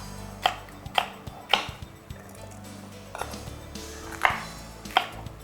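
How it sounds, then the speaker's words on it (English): A knife chops chili peppers on a cutting board for tyrokafteri, about seven sharp, evenly spaced knocks that sound close and distinct over a low kitchen hum, with no talking. "Cut up our chili spices."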